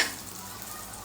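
Onion bhaji fry in hot oil, giving a brief, steady, close sizzling hiss with no speech.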